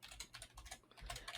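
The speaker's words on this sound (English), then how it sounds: "I love the click sound of keyboards on a podcast." Computer keyboard typing, a rapid, irregular run of close, crisp key clicks that continues steadily with no talk, recorded during a podcast.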